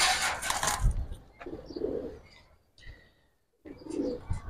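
Giribaz pigeons coo softly in low, throaty bursts, with a few faint chirps and short quiet gaps between calls.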